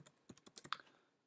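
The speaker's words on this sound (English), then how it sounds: "I'm going to go ahead and type WebKit" Typing on a computer keyboard, a quick irregular run of about a dozen crisp close key taps with one louder stroke midway, no voices present.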